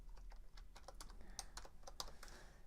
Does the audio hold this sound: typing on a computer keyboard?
yes